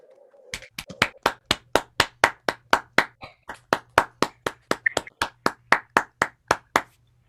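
One person claps alone over an unmuted connection during a virtual poetry and prose reading, about twenty sharp, evenly spaced claps close to the mic, with a faint steady hum underneath.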